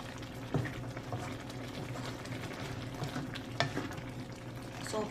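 Ginataang fish stew in coconut milk stirred in a pot, with a low continuous bubbling simmer and a few soft scraping clinks of the spoon against the pot, fairly quiet and close.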